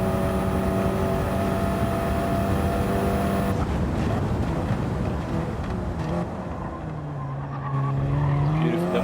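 Race car in a VR racing video game with a manual gearbox: a loud, sustained engine drone with a pitch drop at a gear change partway through, then engine tones rising again alongside tire squeal.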